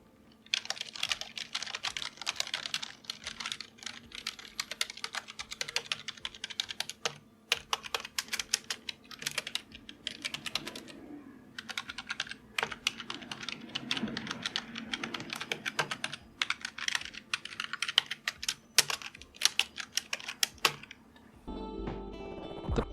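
Continuous typing on a Logitech K375 multi-device keyboard, a steady run of crisp, clackety keystrokes close to the microphone with brief pauses, ending in a low thump.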